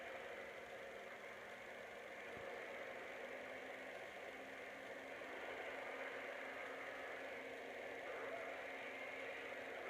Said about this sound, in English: Now I rev the locomotive up to Natch 8. You can hear all 3 of the engine's generators turning on.